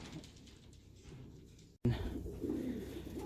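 Breeder pigeon hens in a homemade DIY cage coo softly and steadily. A brief cut splits the sound, then the cooing returns closer and louder.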